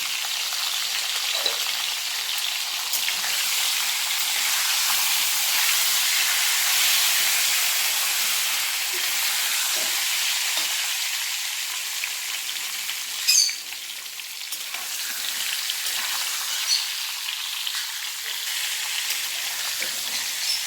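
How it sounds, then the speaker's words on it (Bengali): Pointed gourd (potol) frying in oil over medium heat, seasoned with salt and turmeric, gives a steady close sizzling hiss with occasional brief pops and crackles. "মিডিয়াম আঁচে ভাজতে হবে বেশি আঁচ বাড়ালে পটলগুলো ফুটে উঠবে"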